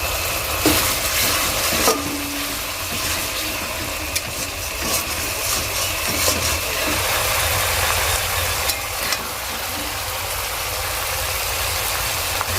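Chicken kasha masala being stirred in a pan after a little water is added, a steady low sizzle with scraping stir strokes running throughout at close range, no talking.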